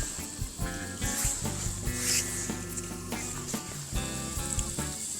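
Butter sizzling and frying in a hot pan over a campsite cooking setup on an island, a steady crackling hiss with a few clinks and handling noises mixed in.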